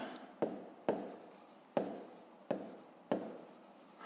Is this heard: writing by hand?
yes